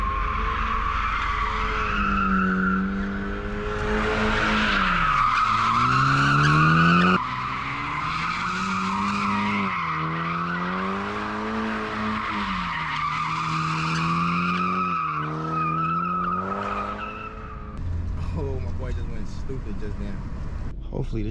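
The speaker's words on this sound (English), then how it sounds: "Hopefully this shit'll let me slide right now." A BMW F30 328i drifting with long, loud, continuous tire squeals that rise and fall in pitch as the car slides, engine droning underneath, with speech heard throughout.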